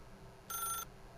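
A telephone in the video game The Stanley Parable gives a single short electronic ring burst, clear and alone over a quiet ambient hum.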